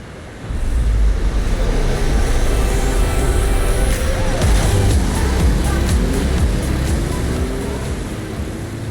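A waterfall roars in Forza Horizon 5's Hot Wheels setting, a loud, steady broadband rush with a car engine's rising whine layered over it throughout.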